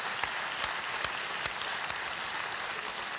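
A studio audience at a televised talent show casting claps steadily, a full, close wash of applause with a few sharper individual claps standing out, and no talk over it.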